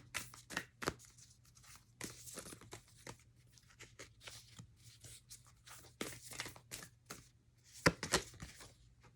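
A deck of Moonology oracle cards is handled close up, with soft shuffling, flicking and crinkling card sounds coming in irregular bursts at low volume and no talking.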